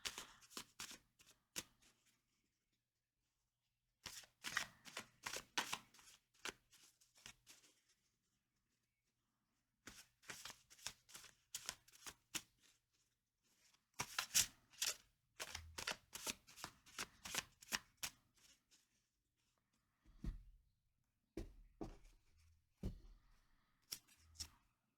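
Tarot and playing cards shuffled by hand in repeated bursts of crisp riffling and flicking, close and clear, with short quiet pauses between rounds and a few soft thumps near the end; no talking.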